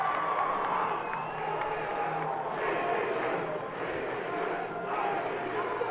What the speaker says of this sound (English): You hear the chants of DBU amongst the crowd here in Columbia, South Carolina